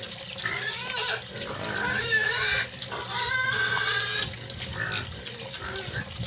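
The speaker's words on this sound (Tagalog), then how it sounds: "Isakain talaga yung native pigs." Native pigs feeding on corn kernels, with repeated close grunting and squealing bursts over a steady low background hum, a faint trickle of water in places.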